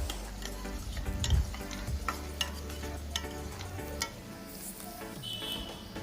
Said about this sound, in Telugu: కాస్త ఆయిల్ వేసుకొని కట్ చేసుకున్న ఆనియన్ని కొద్దిగా వేసి ఫ్రై చేసుకోవాలి.